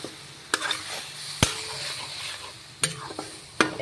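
Soybean and coconut curry is stirred in a frying pan, with sharp spatula scrapes and clinks at irregular intervals over a soft, steady sizzle.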